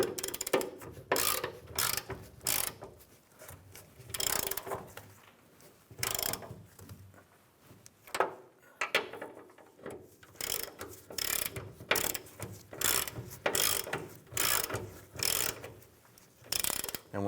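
A ratchet with a 15mm socket tightens nuts on a rear shock mount bracket of a 1993-1997 Ford Ranger, sharp close clicking bursts repeated in quick strokes with short pauses between.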